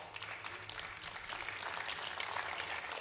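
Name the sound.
audience clapping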